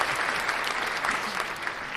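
A short burst of recorded applause sound effect plays on a podcast, dense steady clapping from a crowd lasting about two seconds with no pauses.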